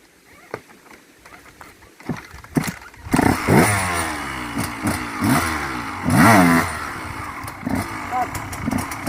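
A motorcycle engine is revved up and let back down in repeated bursts, blipping the throttle while practising wheelies, loud and close, with an instructor talking between and over the revs.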